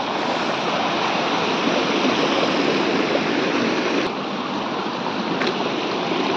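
A mountain waterfall of icy cold water pours in a steady, dense roar, close and unbroken, with a couple of faint clicks and no talk.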